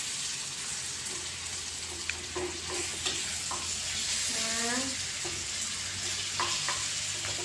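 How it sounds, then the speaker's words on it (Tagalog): Sardines are stirred and sautéed in oil in a pan with a constant sizzle, intermittent scraping and clinking from a stirring utensil, and a brief squeak partway through. "Haluin natin ng konti. Dunugin natin yung, yung sardinas."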